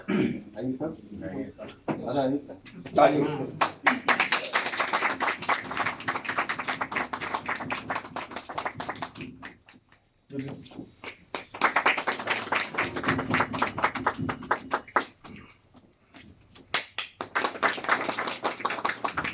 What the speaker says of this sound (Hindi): तालियां कम क्यों बज रही हैं?